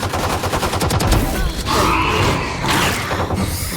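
Rapid bursts of weapon fire in the video game Valorant, a dense fusillade of repeated close shots with mechanical clatter, loud and continuous through the whole stretch.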